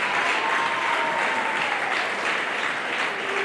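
A crowd applauds the provincial governor Patrick Bousso-Bangui at an official gathering, a dense and even wash of many hands clapping steadily without pause, with no speech on top.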